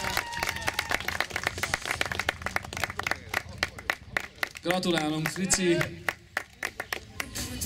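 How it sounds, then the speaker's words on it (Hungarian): Crowd clapping at a rally award ceremony as trophies are handed out: sharp, uneven hand claps from a small group spread throughout, with a voice calling out briefly in the middle and chatter around. "Ők is kapnak egy családias tapsot."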